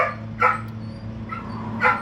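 A dog in a workshop gives two short, sharp barks close by, separated by a pause, with a faint whine between them and no one talking.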